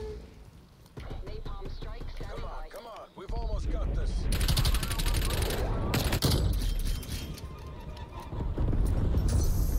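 Shotgun fire and other gunfire in Black Ops Cold War, loud repeated blasts and clattering shots in bursts throughout, with players talking excitedly over the action.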